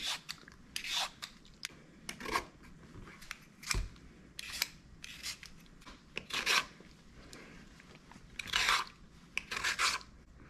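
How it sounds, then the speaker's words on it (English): A potato peeler shaving thin slices from celery stalks, a series of close, crisp scraping strokes in irregular rhythm with short pauses between, quiet and with no talk. "Thin slices with the potato peeler."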